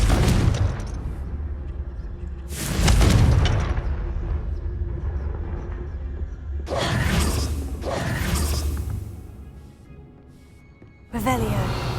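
Spell blast from the Confringo fire curse in the game Hogwarts Legacy, a loud booming burst with a whooshing, crackling tail, repeated in several heavy surges over game sounds.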